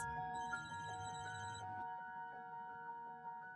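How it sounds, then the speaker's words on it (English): A phone rings during a tense argument between a couple, sounding as a steady electronic tone pattern with repeating chime-like pulses, with a brief burst of busier noise in the first couple of seconds. "A phone rings."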